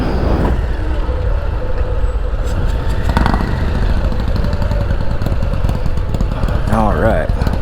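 A Harley-Davidson Low Rider ST idles up close, a loud, steady low rumbling engine throb that persists throughout, with a person speaking over it.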